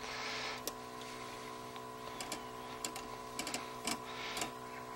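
A blood pressure monitor powers up and pumps air, giving a faint, steady motor hum with scattered light ticks and clicks and no voices.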